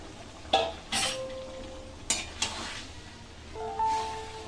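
Marinated chicken goes into a hot pan for Bengali chicken patiala, giving a steady low sizzle broken by a few sharp clinks and scrapes of a spoon stirring against the metal, close up with no talking.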